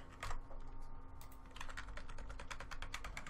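Computer keyboard keys typed in quick irregular bursts of close clicks, alone without talk, while a database is set up in Visual Studio.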